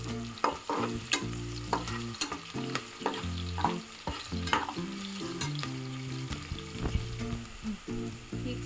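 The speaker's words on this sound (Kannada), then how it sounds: "ಸ್ವಲ್ಪ ಈರುಳ್ಳಿ ಬಣ್ಣ ಚೇಂಜ್ ಆಗೋರಿಗೆ" Sliced onions fry in a pan until they turn brown, giving a steady close sizzle under repeated sharp scraping and clacking strokes of a spoon being stirred through them, with no talk.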